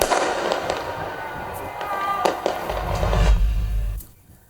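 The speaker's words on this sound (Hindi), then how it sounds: "सिडनी के पर्ल हार्बर में शानदार आतिशबाजी के साथ नए साल 2025 का स्वागत किया गया।" New Year 2025 fireworks over Sydney Harbour crackle and pop in quick bursts, with a deep booming rumble building near the end before fading.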